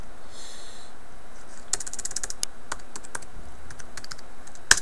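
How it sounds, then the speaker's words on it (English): Someone types a password on a computer keyboard at the Ubuntu 10.04 login screen, with a quick run of close, crisp key clicks in an irregular rhythm and a louder final keystroke, alone without speech. "You go in, you type in your password."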